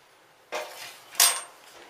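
Two sharp metallic clinks of a small silver spoon dug from a Sydney bottle dump, handled against other cutlery, separated by a short pause in otherwise quiet surroundings.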